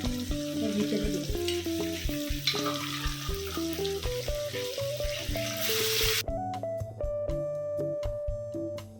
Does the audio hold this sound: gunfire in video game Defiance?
no